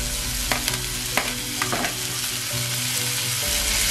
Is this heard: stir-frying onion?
yes